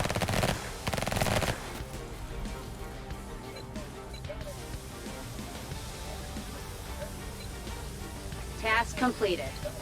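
Bursts of automatic gunfire from the emergency-services video game Emergency, a dense loud volley near the start followed by steadier firing under game voice prompts and people talking.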